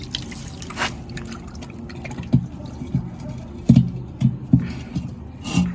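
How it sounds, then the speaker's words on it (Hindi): Water drips and splashes in uneven bursts as it is tipped out of a large plastic bird cage tray, with several louder sloshing pours near the end. "मैं पानी भी निकाल देता हूँ, वो सारी साफ होगी।"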